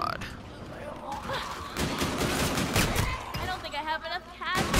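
Rapid bursts of automatic gunfire from Call of Duty: Infinite Warfare Zombies mode, loud and sustained in dense volleys with short pauses, while players talk over the shooting.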